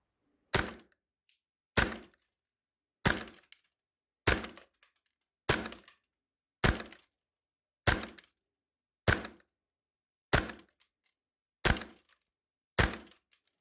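A KWA Kriss Vector gas airsoft rifle with its NPAS adjuster fully open fires eleven loud, sharp single shots at a steady pace of about one per second, each a crisp crack with a short tail. The shots ring out alone with no voices.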